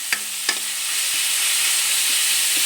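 Coated tinda, or apple gourd, fries in a kadai. A couple of sharp clinks of stirring open the clip, then a loud, steady sizzle builds and holds, with no speech.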